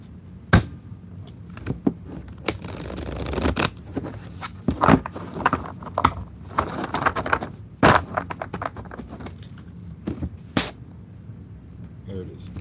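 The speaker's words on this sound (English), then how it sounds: "We'll shuffle them real quick here." A deck of crystal cards being shuffled, giving repeated soft papery riffles and scrapes in bursts across the clip, fairly close, with a person talking intermittently over the handling.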